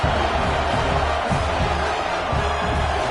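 A stadium crowd roars loudly and steadily after a touchdown in a college football video game, Florida State against Oregon, a continuous wash of cheering with no clear pauses.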